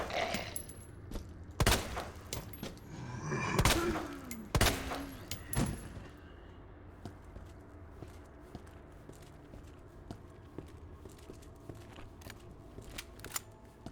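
Gunshots in Resident Evil 2, several sharp loud cracks in the first six seconds, then quieter scattered clicks and footsteps against a low background.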